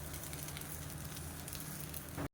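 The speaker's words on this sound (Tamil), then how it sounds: "இப்போ அடை நல்லா மொறு மொறுன்னு வந்துருச்சு திருப்பி போட்டுடலாம் போட்டு இந்த மாதிரி அழுத்தி விட்ருங்க" Millet and drumstick-leaf adai cooking on a hot griddle after being flipped and pressed, giving a steady, close crackling sizzle that runs unbroken and fairly quiet before cutting off abruptly.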